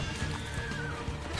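Horse whinnying in the Assassin's Creed II video game, a brief loud neigh lasting just over a second over a dense, noisy game soundscape.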